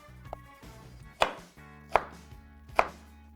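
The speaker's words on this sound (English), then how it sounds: "the first step is to finely chop the celery, then the carrots," A knife chops on a cutting board in three sharp, evenly spaced thuds, preparing vegetables such as celery, carrot and onion for sofrito, close and clear with no talk.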